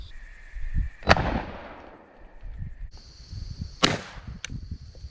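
Two sharp, loud .410 shotgun blasts fired outdoors at a target, each a sudden crack with a fading tail, a few seconds apart, over low background rumble.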